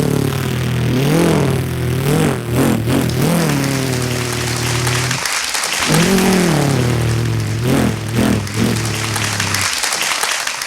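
A voice imitates a grass cutter, producing a buzzing, revving engine drone in two long bursts with rising and falling pitch swells and a short pause between them.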